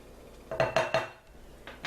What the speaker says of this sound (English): use my favorite pastry blender to cut this into little pea-sized pieces